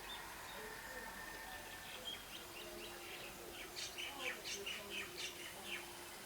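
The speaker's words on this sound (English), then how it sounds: "Some kind of bird up on the cliff up there somewhere." A bird calls from a cliff somewhere above, a series of faint, distant chirps repeating over soft outdoor background noise.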